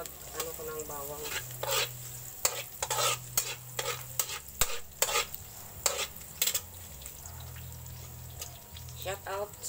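Chicken flakes stir-fried for pancit guisado, a spatula scraping and clacking in repeated strokes against a sizzling pan, close up, with a voice talking between strokes.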